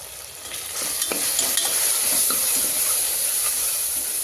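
Biryani masala with ginger-garlic paste fries in spitting oil, giving a close, steady sizzle dotted with small pops and crackles that grows slightly louder after the first second, with no speech.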